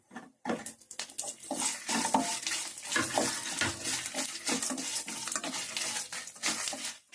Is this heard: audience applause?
no